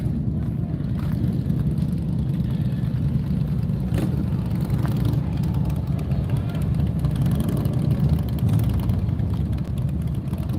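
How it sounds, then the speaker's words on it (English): Several motorcycles rumble in as a group, a loud, continuous low engine drone with occasional revving swells, close by and sustained throughout while the bikes arrive and park. "I hear a bunch of motorcycles right now."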